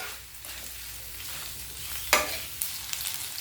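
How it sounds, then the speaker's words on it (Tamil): Taro root pieces fry in a pan with a constant hissing sizzle, punctuated by a sharp scrape or clack as the pieces are turned and stirred, with no voices present. "அப்பப்போ நல்லா திருப்பி விட்டு ஃப்ரை பண்ணி எடுத்துகிட்டு வந்துக்கலாம்."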